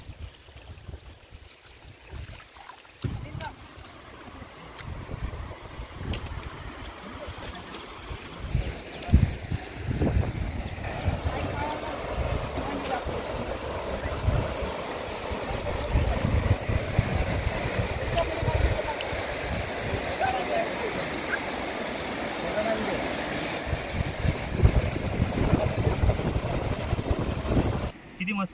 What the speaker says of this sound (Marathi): पलीकडे झरा वाहत आहे, त्याचा खळखळ खळखळ असा आवाज येतोय.